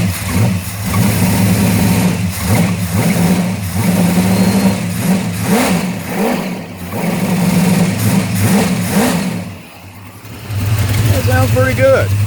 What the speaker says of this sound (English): Let's give her a little rev again.